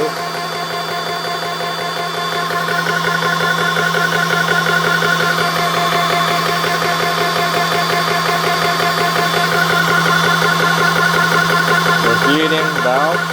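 The electric motor of a PCP air compressor used to fill an air rifle runs with a steady, loud hum and mechanical whine throughout, holding an even drone over the whole stretch.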